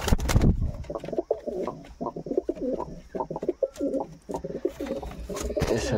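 A Jira pigeon cooing close by in a repeated, rhythmic series of soft low coos, preceded by a brief loud rustle at the start.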